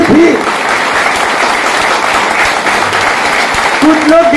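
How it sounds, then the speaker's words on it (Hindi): A hall full of seminar attendees applauds loudly and steadily, broad continuous clapping with a voice briefly cutting in near the start and again at the end. "इतनी कम ताली नहीं होनी चाहिए, जोरदार होनी चाहिए।"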